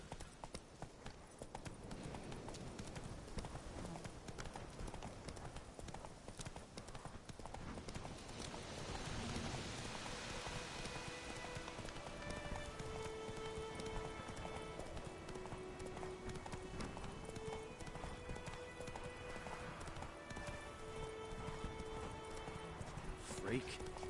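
Hooves of the horse Roach in The Witcher 3 clop steadily through rain, a rhythmic trotting beat under constant rain hiss, with talk and music over it.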